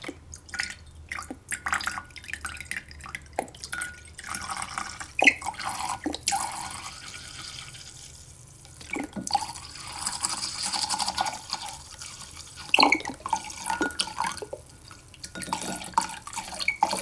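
Hydrogen peroxide poured from a bottle to make a homemade mattress cleaning solution gives a run of dripping, splashing liquid sounds with short bursts and brief pauses, fairly close and clear.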